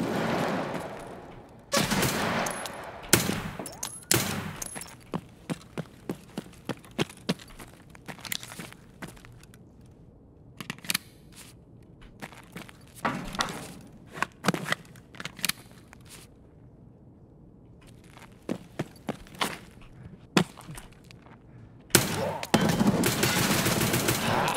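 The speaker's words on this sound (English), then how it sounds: "That guy just sprayed a whole ass fucking mag." Bursts of automatic gunfire in a first-person shooter video game, sharp and loud, firing in repeated sprays with short gaps between volleys and dense near-constant fire at the start and end.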